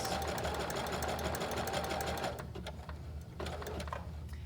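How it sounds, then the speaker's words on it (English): A sewing machine stitches a reusable produce bag with a fast, steady mechanical whir for about two seconds, then slows into quieter, lighter intermittent stitching; no one speaks. "I'm going to stitch up to that point"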